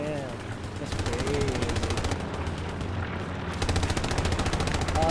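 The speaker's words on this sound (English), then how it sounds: "we got multiple people shooting in that direction" Sustained automatic gunfire rattles steadily in a military sim game, several weapons firing at once in dense rapid bursts over a low rumbling backdrop, with faint chatter now and then beneath it.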